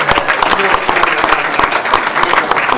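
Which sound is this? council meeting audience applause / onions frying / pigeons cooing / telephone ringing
council meeting audience applause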